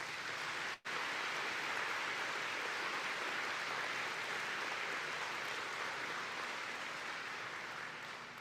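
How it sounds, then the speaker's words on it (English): Sustained applause from an audience at a Lutheran gathering, a soft, even wash of many hands clapping at a distance, with one brief dropout near the start. "So please give them another round of applause."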